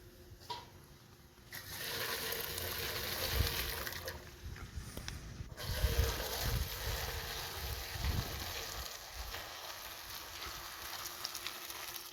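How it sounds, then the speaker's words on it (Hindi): Parboiled rice for a white mutton biryani is tipped into a strainer, and its cooking water pours out in a steady rushing splash that swells and fades in bursts over several seconds, with low thuds of handling. "अब हम नीचे उतारेंगे और इनको छान लेंगे।"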